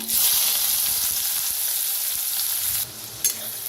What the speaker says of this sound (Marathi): कांदा आता छान असा भाजून घेऊया।